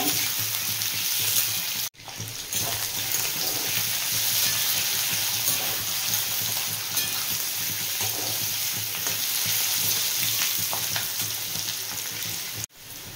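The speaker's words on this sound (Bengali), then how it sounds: "সব এবার একসাথে ভেজে নেব।" Carrot, capsicum and onion frying together in oil for egg chowmein, a dense, loud, unbroken sizzle close up with faint stirring underneath and a couple of brief cuts.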